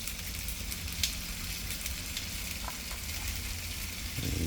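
Paprika-flavoured chicken skewers sizzle on a BBQ grill with a steady, close, crackling hiss. The sound is constant and loud, with no voices.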